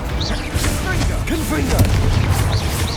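Explosive spell blasts from the Confringo fire charm in Hogwarts Legacy: several booming bursts in quick succession with crackling debris and whooshing magic, while a voice talks over the action.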